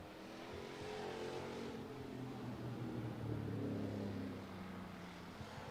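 Hobby stock race cars racing at Buena Vista Raceway, engines droning at a distance in a steady, sustained roar that swells slightly as the pack comes around.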